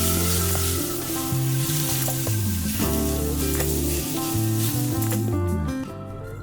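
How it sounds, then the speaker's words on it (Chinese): Onions sizzle steadily as they are stir-fried in a pan over lowered heat, with a continuous bright frying hiss under prominent background music. "把火关小，然后把洋葱倒进锅里翻炒一下。"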